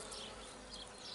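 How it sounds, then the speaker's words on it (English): A bee buzzes among flowering echium with a faint, continuous hum that drifts slightly, heard alone against quiet outdoor air. "show you another bee hard at work in there"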